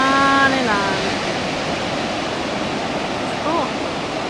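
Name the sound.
ocean waves on a beach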